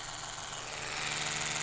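An Oral-B electric toothbrush runs with a steady, close, bright high-pitched whir and buzz that holds evenly throughout, with no voices.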